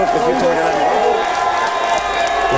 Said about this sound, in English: Make some noise for Iron Solomon